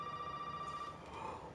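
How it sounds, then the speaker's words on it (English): Telephone ringing inside the Resident Evil 7 video game, a steady electronic ring sustained under a low droning ambience, moderately quiet and heard alone. "Wait, was that a phone?"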